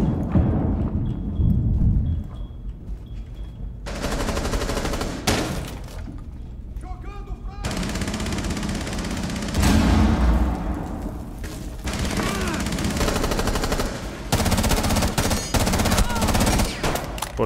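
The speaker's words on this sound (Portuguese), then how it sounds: "Bomba de cluster ativada." Cluster charge detonations in Rainbow Six Siege, a rapid string of sharp gunfire-like blasts and thuds in several bursts across the clip, loud and close, mixed with game noise.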